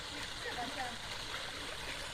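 Water flows steadily at a spring water source feeding a swimming pool, a continuous close hiss and gurgle with no break throughout.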